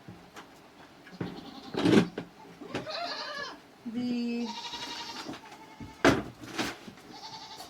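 Dairy goats in milk bleating on a rainy farm, several loud, wavering calls in quick succession from close by, with quieter background noise and a brief spoken word between them.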